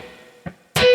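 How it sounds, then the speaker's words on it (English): Two short, punchy distorted electric guitar rhythm hits snap out after a fading ringing chord, the second hit louder and fuller, close and alone. "And then there's those 2 cool little rhythm hits"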